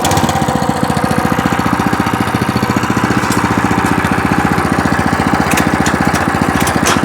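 Small walk-behind tractor engine with its choke closed, running loud and close with a fast, steady, pulsing chug throughout and no talk.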